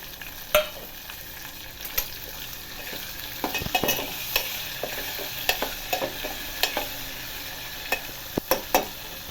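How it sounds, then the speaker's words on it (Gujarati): Onions and tomatoes fry in a pan with a low steady sizzle, while a utensil scrapes and taps against the pan in irregular stirring strokes close up. "આમાં ડુંગળી ને ટામેટાં એડ કરીશું।"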